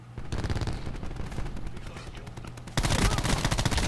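Rapid gunfire in a Black Ops 4 multiplayer gunfight, dense automatic bursts that surge louder toward the end, with a voice faintly under the shooting.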